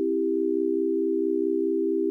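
A steady chord played in an alternative temperament holds at an even level, smooth and sustained for about two seconds, with no voices.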